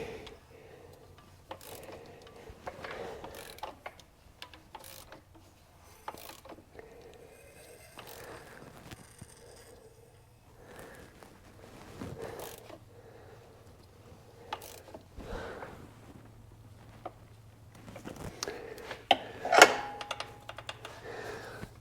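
A 2013 Bennche UTV engine with its piston locking up in the cylinder, heard as irregular mechanical clicks, clunks and ratcheting knocks under quiet conditions, with a louder cluster of knocks near the end.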